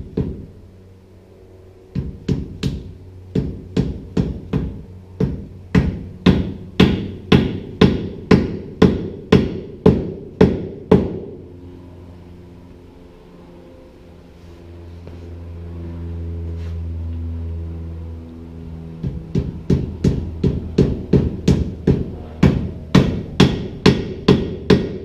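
Steady hammering as bushings are driven into a car frame for a Speedway Motors gasser kit build; rapid, evenly spaced metallic blows in two long runs, separated by a lower droning pause.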